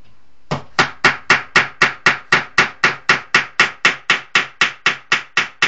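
Steady, evenly spaced hammer blows, about three per second, ring out sharply and loudly up close, each strike a bright crack with a quick decay, continuing without pause and with no talking.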